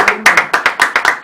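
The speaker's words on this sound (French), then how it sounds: "Applaudissons pour nous-mêmes." A small group of people clap together in applause, a burst of sharp, irregular handclaps that fills the whole moment, close and fairly loud, with no voices over it.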